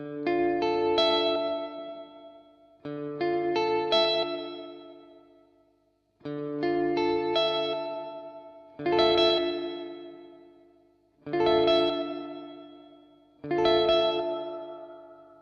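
Six swelling bursts of heavily processed, reverberant synth tones through an 80-filter reverb, each decaying into a long wash; the layered sound thins out and quiets in later bursts as filters are reduced.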